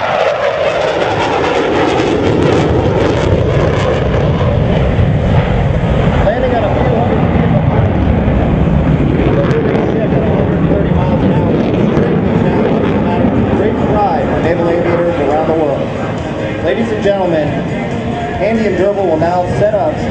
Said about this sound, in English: Now the Super Hornet is setting up for the carrier break.